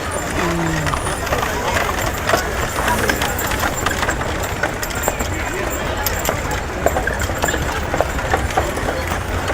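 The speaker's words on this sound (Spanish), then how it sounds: "esa es una mula" A mule walks with a steady run of clip-clopping hooves, close and fairly loud, under frequent talk from nearby people.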